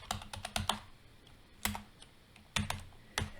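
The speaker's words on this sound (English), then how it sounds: "Let's just type employee." Fingers type a short word on a computer keyboard, a quick cluster of close, soft key clicks followed by a few more separate taps in a quiet room.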